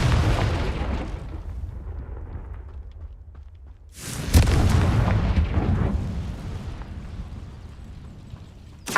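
The Confringo fire spell bursts in Hogwarts Legacy: a loud booming explosion fades into a low rumble, and a second sharp blast follows midway with a crackling tail.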